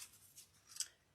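Scissors snip through floral stems for a dough bowl centerpiece, a few quiet, crisp clicks with one sharper cut near the end, close by and alone.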